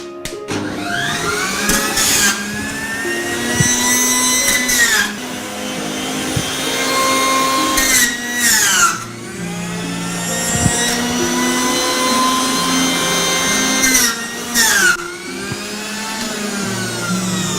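An electric juicer grinds large pieces of ash gourd into juice, a loud, close motor whine rising and falling in pitch as each chunk is fed, with brief dips between loads.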